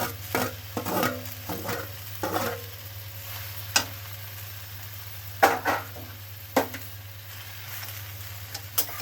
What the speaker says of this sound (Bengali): এর মধ্যে দিয়ে এগুলোকে ভালো করে নেড়ে চেড়ে নেবো